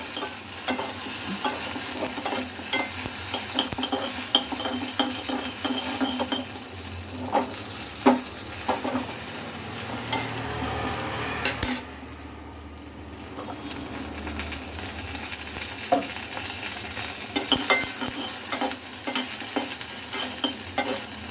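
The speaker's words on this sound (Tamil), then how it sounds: "எல்லாம் இந்த மாதிரி நல்லா ஃப்ரை பண்ணிவிடுங்க" Okra frying in a pan for mixed vegetable sambar, stirred repeatedly with a utensil; a constant sizzle runs under scraping and clattering strokes, with a brief quieter lull near the middle before the stirring resumes.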